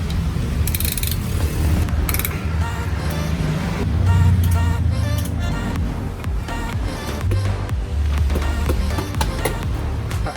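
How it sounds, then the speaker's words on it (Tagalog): A torque wrench clicks and ratchets steadily on the connecting rod bolts of a Lancer 4G92 engine during a home overhaul, with repeated close mechanical ticks over a noisy background. "Sabay-sabay natin i-torque yung connecting rod."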